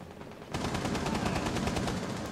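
Rapid automatic gunfire in Rainbow Six Siege on the Littoral map, a loud, continuous burst of closely spaced shots starting abruptly and running to the end, with no talking.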